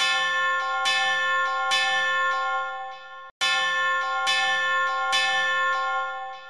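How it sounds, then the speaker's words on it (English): Incredibox Colorbox V2 mod character Bell rings a sustained, bright bell tone with rich ringing overtones, struck in repeated patterns and looping after a brief gap, loud and alone. "That is definitely a Bell."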